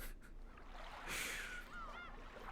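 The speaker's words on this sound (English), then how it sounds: "They're seagulls." Seagull calls in the Umineko When They Cry video game: a few bright, rising squawks over a soft background wash, moderately near and fairly faint.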